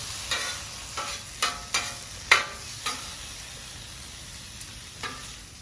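Wild turkey sandwich meat sizzles steadily in a pan, broken by several sharp scraping tosses and stirs spaced a second or so apart, close and moderately loud, with no talking.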